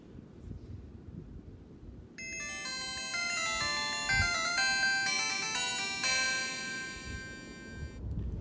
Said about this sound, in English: There's your startup sound.